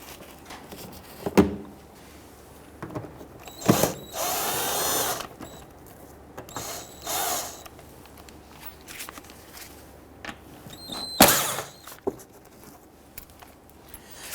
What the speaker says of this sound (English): We're going to switch over to our power tool to speed things up.